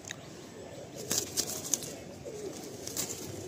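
Pigeons in a Giribaj pigeon loft in Kolkata coo softly and rustle, with low murmuring calls and a few faint clicks and flutters over a quiet background.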